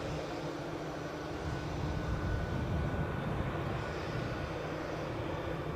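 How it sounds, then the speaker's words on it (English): An Embraer ERJ145EP regional jet at Edinburgh airport: a steady, moderately loud engine roar and rumble heard from a distance, swelling slightly midway, with no talk. "it is an Embraer ERJ145EP, registration GSAJL"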